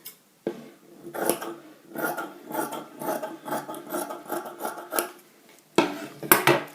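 Cloth being trimmed with scissors to make a sleeve, heard up close as a steady run of rhythmic rasping cuts with brief pauses, then a louder final burst of cuts. No one speaks.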